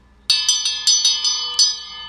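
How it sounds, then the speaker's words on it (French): A small relaxation bell rings seven bright, clear strikes in an uneven rhythm, each with a short ringing decay, close and alone in a quiet room. "Ah, puis une petite cloche de relaxation, Maëlie. Ça calme."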